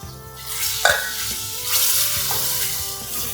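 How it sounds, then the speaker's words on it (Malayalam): Thick mackerel curry with kudampuli bubbles and sizzles in a pot with a few stirring scrapes, close up and steady, no voices. "ഇത് നന്നായിട്ട് തിളച്ചിട്ടുണ്ട്."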